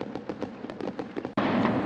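Night-sky fireworks burst in a rapid string of crackling pops, followed by a sudden louder, dense roar of explosions.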